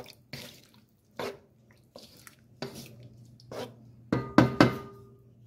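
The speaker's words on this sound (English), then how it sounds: "So here I transfer my sauce into my smaller skillet." Orange juice and white wine sauce is poured into a smaller skillet, heard as a series of separate splashes and drips with quiet gaps between them, growing into louder, denser splattering near the end.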